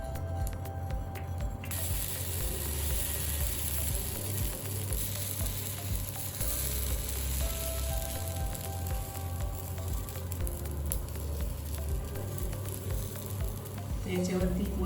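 Semolina pancakes topped with sesame seeds sizzle and fry on a hot, oiled griddle, a steady close crackle running without a break, with faint kitchen clatter.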